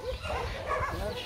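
A puppy yips and whimpers in short, restless bursts close by, mixed with a person talking throughout.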